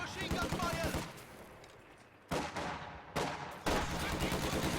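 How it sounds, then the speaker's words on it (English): Heavy machine gun fire in a World War II strategy video game, dense loud bursts of gunfire that drop off, then return in sharp blasts, heard alone without talking. "We are taking heavy machine gun"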